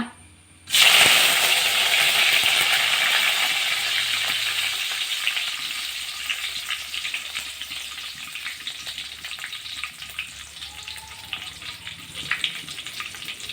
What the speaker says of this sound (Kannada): ಒಗ್ಗರಣೆಗೆ ಒಕ್ಕ ಒಂಚೂರು ಬೇವ್ರೆ ಪಾಡುಗ